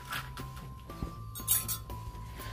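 A spoon clinks repeatedly against a 22-ounce glass while stirring iced instant coffee, a run of bright taps in an irregular rhythm, close and fairly clear.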